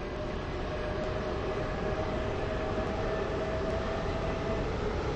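Steady rumble of a train running in the Stepford County Railway game, a continuous broadband roar with a faint sustained whine, unbroken and fairly close, with no talking.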